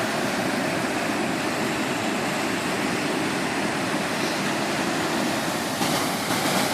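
Rushing floodwater during the rainy season in Punjab gives a steady, loud, broadband roar that holds unchanged from start to finish, with no voices.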